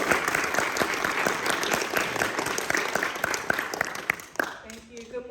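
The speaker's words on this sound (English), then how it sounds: "let's give a big Moore College a round of applause to our special guest today, the Garifuna community" College audience applauding guests from the Garifuna community, brisk close clapping with distinct individual hand claps that dies away at the end as a voice begins speaking.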